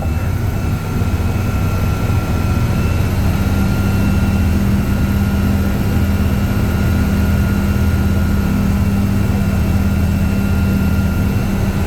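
A Seal Tour amphibious tour vehicle on San Diego Bay drives up a ramp, its heavy engine droning loudly and steadily with a deep low rumble throughout, no voices present.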